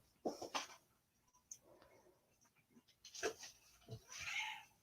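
Cats meowing close by, with several short separate meows and a longer drawn-out call near the end, in a quiet room.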